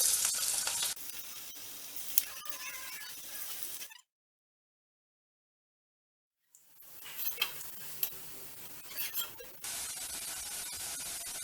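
Cabbage pakoda batter, pinched in small bits, frying in hot oil with a steady close sizzle and light stirring, broken by a few seconds of silence before the sizzling resumes.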